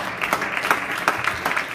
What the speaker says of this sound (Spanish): ¿Por qué no se pone de pie y le da un aplauso al Señor?